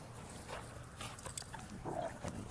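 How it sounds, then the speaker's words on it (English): Several dogs playing and jumping around, faint scuffling, panting and soft whimpering snorts at a distance, continuous low activity with no clear barking. "I'm gonna get jumped on here by these dogs"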